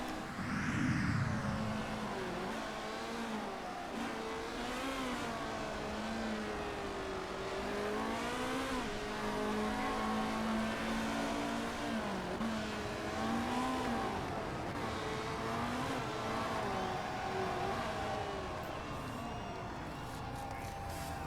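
Race car engines in the Motorsport Manager game at the 2016 Dubai track, a continuous rising and falling whine of revving cars heard at moderate distance over a low crowd murmur.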